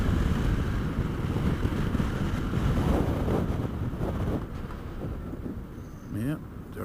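Steady wind rushes and buffets against the microphone, a continuous roar that eases slightly toward the end, with faint voices underneath.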